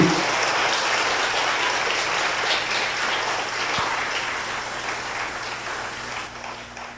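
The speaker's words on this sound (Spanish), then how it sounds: "levántale un aplauso mientras yo me instalo allí" A church congregation at a Spanish-language service applauds, producing dense, sustained clapping from many hands that fills the room for several seconds and tapers slightly toward the end, with no talking over it.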